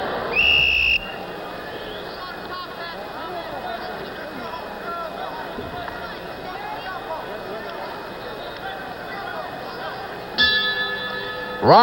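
A boxing ring warning bell clangs at a live 1972 heavyweight bout, in two bright bursts at the start and near the end, over steady crowd noise and a commentator's voice.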